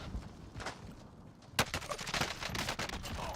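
Submachine gun fire in the Call of Duty Warzone battle royale on the Caldera map: quick bursts of rapid shots, a sharp loud volley after a quieter stretch, followed by continued close rattling fire.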